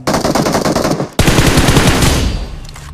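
Rapid automatic gunfire in a mobile battle-royale shooter game, loud and close: a rattling burst, a brief break near one second, then a heavier sustained volley that fades out at the end.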